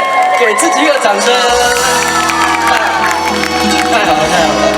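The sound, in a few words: audience applause and cheering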